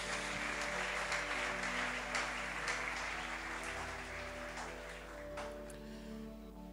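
A church congregation applauds in a continuous, dense wash of clapping that holds steady and then gradually thins toward the end, with no talking over it.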